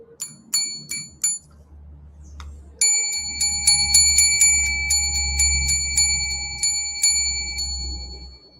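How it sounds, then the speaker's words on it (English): A small hand bell rings in bright repeated strikes, a few quick jingles at first, then a sustained shaking with a steady ringing tone and clustered chimes, over a low background hum. "I like the bell."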